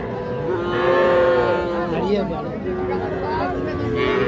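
A calf moos at a rural cattle market, several drawn-out nasal calls close by over a low murmur of crowd noise.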